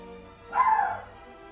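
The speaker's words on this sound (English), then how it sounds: "And I hope you don't hear my dogs, but you may hear them barking periodically" A single short dog bark or yip rings out once, fairly close, against a quiet background.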